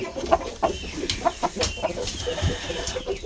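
A rooster lets out a series of short, fairly close clucks and squawks in an uneven rhythm, with a couple of sharper calls standing out among scattered farmyard noises.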